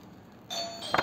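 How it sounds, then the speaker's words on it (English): An indoor doorbell chimes once, a clear ding-dong tone that starts softly and rings up to a brighter second note, heard alone in a quiet room. "I'm very sorry about this doorbell again."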